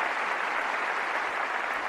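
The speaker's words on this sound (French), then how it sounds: "Un applaudissement pour notre frère Carlos Eduardo." A congregation at a Bible study gathering gives steady, even applause for brother Carlos Eduardo, a continuous roomful of clapping heard without speech.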